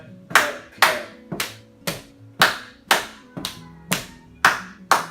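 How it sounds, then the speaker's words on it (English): During a strength and balance warm-up, hands slap the sides of the legs and then clap together while marching, about ten crisp, evenly spaced strikes in a steady slap-slap-clap-clap rhythm, close and without talk. "Slap, slap, clap, clap, slap, slap, clap, clap"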